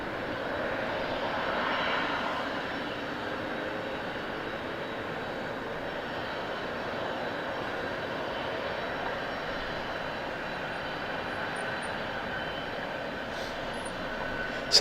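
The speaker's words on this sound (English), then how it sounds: "The prop going to be going off, and the BizJet heading out now." A propeller plane and a business jet at Southend Airport produce a steady, continuous engine roar that stays fairly constant and moderately loud throughout, with no speech over it.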